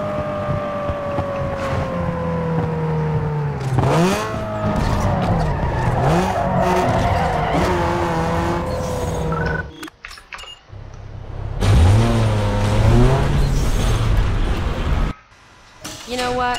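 A Mazda Miata races in Need for Speed Underground 2, its engine revving up and down through gear changes with tire squeals and skids, broken by brief pauses as a voice talks over the action.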